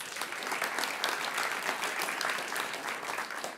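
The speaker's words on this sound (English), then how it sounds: "You can give them another round of applause." An audience at a Climate Week welcome event gives the co-hosts another round of applause, dense continuous clapping from a crowd filling the whole stretch.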